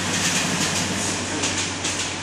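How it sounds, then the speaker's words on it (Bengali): A train runs along the track somewhere below a forested hillside, an even, muffled rumble heard from a distance above, steady throughout with no talking. "এখন গাইজ এই ট্রেনটা চলে যাচ্ছে এখনই"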